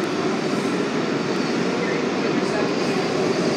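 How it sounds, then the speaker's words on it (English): A DC Metro subway train rumbles past with a steady, broad roar, neither close nor far, holding constant throughout. "you can hear in the background the other train going now."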